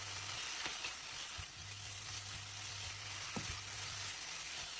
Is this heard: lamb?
yes